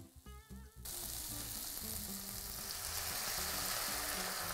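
Onions and garlic sautéing in butter for chicken biryani, a brief quieter stretch of sizzling before water hits the pan and a loud, steady frying hiss takes over up close.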